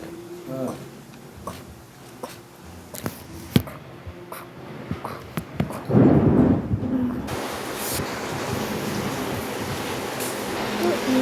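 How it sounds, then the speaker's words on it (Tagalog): Rain and thunder at night in the Roblox game Brookhaven: scattered sharp cracks and knocks early on, then a dense, steady wash of rainfall from about midway that swells and continues to the end. "Gabi na din dito. Umuulan pa nga."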